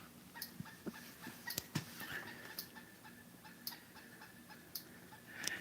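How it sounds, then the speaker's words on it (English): A bird calls somewhere outdoors, heard faintly and at a distance as a scatter of brief, sharp chirps and clicks over a low steady background, with no voices. "Yeah, a bird out there somewhere."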